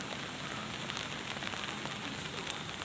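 Steady rain falls on a street during a typhoon, a dense, even hiss of drops on pavement with faint scattered patters, constant and close throughout, with no talking.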